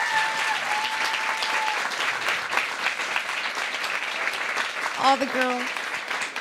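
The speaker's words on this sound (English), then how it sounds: "Let's give them another round of applause." A large audience applauds at a conversation event about girls, sustained dense clapping with a voice speaking over it near the end and whoops rising above the crowd.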